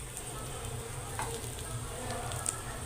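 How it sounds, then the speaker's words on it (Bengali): Potato pieces frying in a pan until browned: a faint, steady sizzle close by with a few soft crackles and light pan sounds. "পটলের মতো পোড়া পোড়া করে এই আলুগুলোকে ভেজে নিতে হবে"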